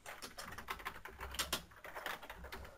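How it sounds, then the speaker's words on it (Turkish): Computer keyboard typing during a PES 2017 football game session, with rapid, irregular key clicks at moderate, close level and no voices. "klavye klavye sesi gelebilir normal olarak"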